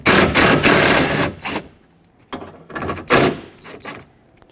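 A 10mm bolt loosened with a ratchet at the top of a rear window regulator in a 2009-2014 Ford F-150, heard as close, loud bursts of rapid ratcheting clicks in several short runs separated by pauses.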